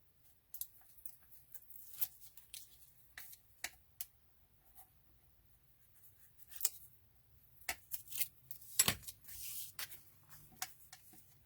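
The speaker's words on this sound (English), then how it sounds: "I'm going to snip off this extra piece before I adhere it to my card base" Sharp scissors snip through a piece of cardstock being trimmed for a handmade card, a dozen or so crisp, close cuts in irregular bursts with quiet pauses between, no talking.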